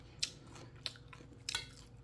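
Crisp crunching bites of water dropwort (minari) bibimbap, the lightly cooked minari giving three or four sharp crunchy chews close up in a quiet room.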